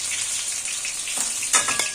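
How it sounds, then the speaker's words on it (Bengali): Pointed gourd pieces frying in oil, a steady soft sizzle with brief louder crackles and stirring near the end, no voices. "পটলগুলো খুব ভালোভাবে ভাজা হয়ে গিয়েছে লাল হয়ে গিয়েছে"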